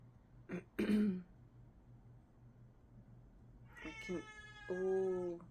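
A house cat meows nearby, with two short calls followed after a pause by a longer drawn-out meow, each loud and clear over a quiet background, with no talking.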